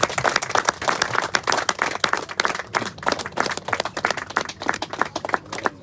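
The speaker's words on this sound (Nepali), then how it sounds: "लाउँदै गर्दा हामी ताली बजाउनेछौँ।" Wedding guests at a Christian marriage ceremony clap during the ring exchange, producing dense, lively applause from a crowd of hands that stays fairly constant throughout.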